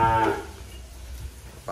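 A Limousin calf of about seven months gives a single loud, close moo at the start, and its call then fades into faint barn background noise.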